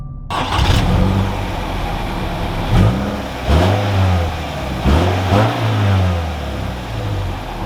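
A 2021 Subaru Crosstrek STI engine cranks to life, then revs several times, its rising and falling tones over a steady idle, loud and close with no talking.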